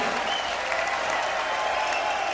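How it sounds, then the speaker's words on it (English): Audience at a live rock concert in Düsseldorf clapping and cheering, a dense steady wash of applause that fills the whole moment. "Give yourselves a cheer."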